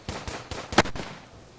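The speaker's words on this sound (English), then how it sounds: "I'm getting suppressed by two guys with Lugers" Luger pistols firing during a close-quarters fight in the First World War shooter Verdun, a rapid run of four or five sharp gunshots with one louder crack near the middle, fading into a faint rumbling tail.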